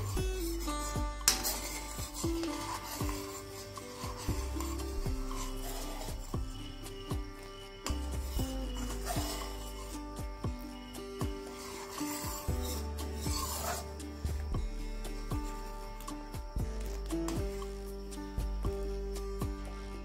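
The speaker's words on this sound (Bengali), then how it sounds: "এইভাবে বারে বারে নেড়ে নেড়ে দুধটাকে ঘন করে নিতে হবে।" Milk is stirred over and over in a pan to thicken it, making soft, continuous scraping and rubbing sounds against a steady musical backdrop.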